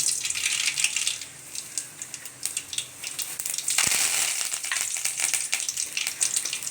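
Mustard seeds spluttering and popping in hot oil in a pan while making chicken kuzhambu, a dense crackling sizzle with sharp pops throughout, close and loud, with no talk.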